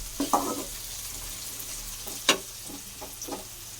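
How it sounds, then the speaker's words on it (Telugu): Ginger garlic paste frying in hot oil for a chicken pickle, a soft steady sizzle with a few sharp stirring scrapes against the pan, close and moderately quiet, with no talking. "అల్లం వెల్లుల్లి పేస్ట్ బాగా ఫ్రై అయిపోయింది"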